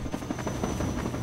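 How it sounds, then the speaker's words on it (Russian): A helicopter in Half-Life 2 thrums close by with a rapid, steady rotor chop and a thin constant high whine, briefly and fairly loud, with no talking. "Вертолет."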